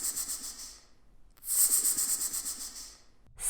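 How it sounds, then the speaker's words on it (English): A snake hisses in two long, airy bursts separated by a short pause, close and fairly loud, with a third hiss just starting at the end. "Snake. The snake says,"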